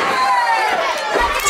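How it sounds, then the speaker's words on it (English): A live wrestling crowd at a championship contest roars in a dense, sustained wall of cheering and shouting that stays loud and steady throughout, with no clear speech rising above it. "This crowd is all the way live here in this contest."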